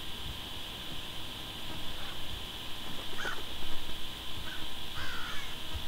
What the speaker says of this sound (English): I appear to have pissed off the bird.